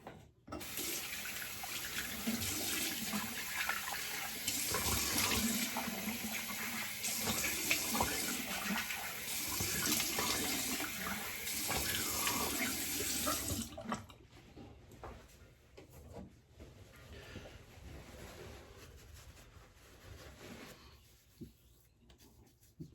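Hot water running steadily from a bathroom tap into a sink during a shave, a close, even rushing stream lasting about fourteen seconds before it shuts off, leaving quiet handling noises.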